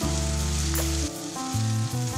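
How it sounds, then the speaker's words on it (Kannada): Chopped potatoes frying in ghee in a pan over a medium flame, a loud steady sizzle heard close up with a brief disturbance partway through, no voices. "ತುಪ್ಪ ಕಾದ ನಂತರ ಹೆಚ್ಚಿದ ಆಲೂಗಡ್ಡೆ ಹಾಕಿ ಫ್ರೈ ಮಾಡಿ."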